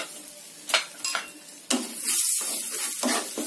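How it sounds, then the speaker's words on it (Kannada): Potato and corn frying lightly in oil with mixed masala and salt over a low flame, a soft sizzle broken by several sharp spoon scrapes and pan clinks near at hand. "ಜಸ್ಟ್ ಎಣ್ಣೆಲಿ ಒಂದ್ ಸ್ವಲ್ಪ ಲೈಟ್ ಆಗಿ ಸ್ವಲ್ಪ ಫ್ರೈ ಮಾಡ್ಕೊಳ್ಳಿ."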